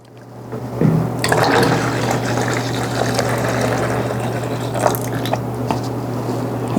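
Acid toilet cleaner is poured into a toilet bowl, a close, continuous liquid gush and splash that starts abruptly and runs steadily with small gurgles.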